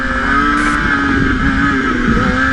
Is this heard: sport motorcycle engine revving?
yes